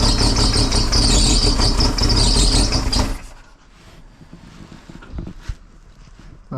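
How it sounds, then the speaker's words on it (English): A compound-turbo DSM car engine fires up and runs loud and steady for about three seconds, then abruptly dies, leaving quieter mechanical clicks, rattles and a few knocks afterward. "Compound V1, start data log, start car."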